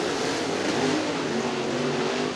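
Late model race cars roar steadily around the Cottage Grove Speedway oval during a heat race, a dense, continuous engine drone with no break.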